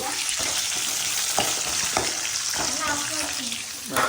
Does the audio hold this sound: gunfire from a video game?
no